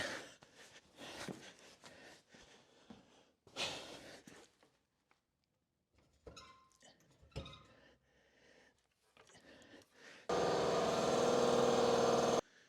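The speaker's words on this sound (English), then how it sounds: "I had to let my air compressor fill up" An air compressor runs in a garage, a loud, steady mechanical drone that starts abruptly late in the clip after a stretch of clunks, shuffling and near-silence.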